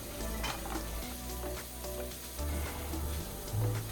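Air fryer running with sweet potato fries inside, a steady fan hum and low rumble with faint crackling sizzle, continuous and close throughout.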